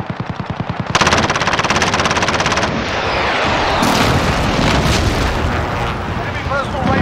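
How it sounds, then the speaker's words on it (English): A precision airstrike in the Call of Duty Modern Warfare video game, with rapid machine-gun fire followed by heavy explosive blasts and rumbling impacts, loud and dense, under in-game voices. "Precision airstrike, take cover!"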